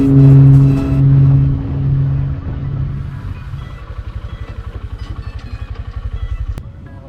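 A Honda CD110 motorcycle engine hums as it speeds up to 60 km/h, then settles into a steady, pulsing idle-like thrum as the bike brakes with its drum brakes; close and fairly loud, no talk.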